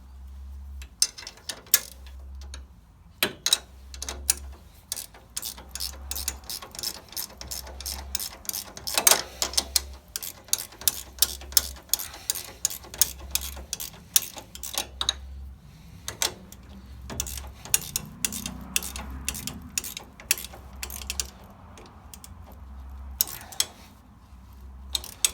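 Metal clicks and ticks come from a wrench tightening a bolt on a 2015 Kawasaki Teryx LE while a 2-inch lift kit is installed. The clicks are close and fairly steady, repeating through the clip, with a low hum running underneath and no talking.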